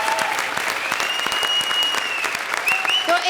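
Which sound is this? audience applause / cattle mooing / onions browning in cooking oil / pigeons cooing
audience applause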